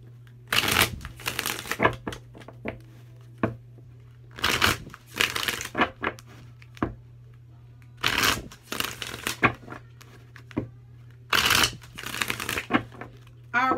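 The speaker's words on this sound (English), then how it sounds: "I'm going to shuffle up a couple more times." Tarot cards are shuffled up close in four loud riffling bursts, each a flurry of rapid flicks separated by brief quiet pauses over a low steady hum.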